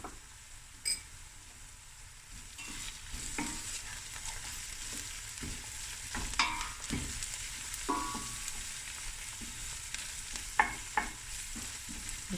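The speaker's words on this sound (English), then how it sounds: "now I'm going to add my garlic, fresh garlic, ginger." A couple of tablespoons of fresh garlic and a tablespoon of ginger frying in a pan for lamb akhni, a quiet, even sizzle with occasional light clicks and stirring scrapes.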